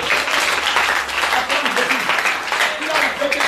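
A congregation at a church service applauds and cheers in a dense, steady wash of clapping and voices lasting the whole stretch, with talk mixed in underneath.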